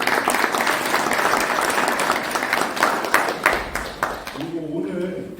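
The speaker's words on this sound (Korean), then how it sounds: "큰 박수 부탁드립니다." Audience applause in a city hall conference room at a civic forum, a sustained crowd clapping that fills the room for several seconds, then fades as a voice starts speaking near the end.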